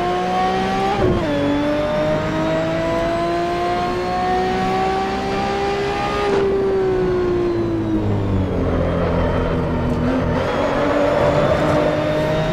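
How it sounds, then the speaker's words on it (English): A 1977 Broadspeed Jaguar XJ12C racing in Assetto Corsa: its engine note rises steadily through long pulls, drops sharply at gear changes around one and six seconds, then turns rougher and more gravelly as it slows, loud and alone. "It's 3 laps inside the 1977 Broadspeed Jaguar XJ12C"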